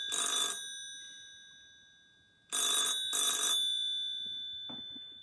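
Double rings from an old-fashioned landline telephone bell sound loud and near, a burst at the start and a two-ring pair midway, with a brief faint knock near the end and no voices.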